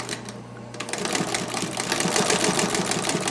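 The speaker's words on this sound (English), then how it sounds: "it's making a pretty good stitch" A Singer 43-7 industrial sewing machine stitches at a steady fast rhythm, its needle bar chattering loud and close as it picks up speed, with other workshop noise in the background.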